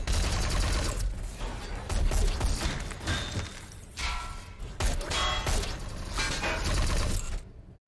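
Sustained automatic gunfire in a science-fiction TV battle scene from The Expanse, dense rapid bursts with heavy low thumps and mechanical clatter, loud and continuous before cutting off.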